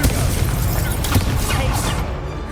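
A Confringo blasting spell explodes in the Hogwarts Legacy video game, a loud, continuous booming rumble with crackling bursts layered over dense combat noise, while a voice shouts over it.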